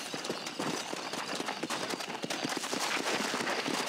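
Horse hooves beat in a fast, steady rhythm across rough ground in a Western open-world game, the galloping close and continuous amid busy outdoor ambience.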